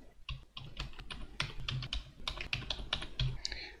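Typing on a computer keyboard while entering multiline text in drafting software, a quick run of crisp, close key clicks in uneven bursts with no voices.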